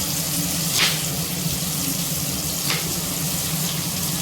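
Tomatoes and onions sauté in a pan, giving a continuous close sizzle with faint scraping touches throughout.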